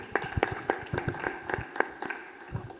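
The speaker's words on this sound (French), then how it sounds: "est-ce qu'on peut applaudir?" Scattered handclaps from a small audience at a press conference, a dozen or so sharp claps in loose irregular rhythm, moderately close and fairly soft, with no talk over them.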